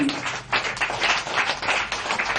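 A church congregation claps during a worship service, a steady mass of overlapping hand claps heard from a distance at low level and without a break.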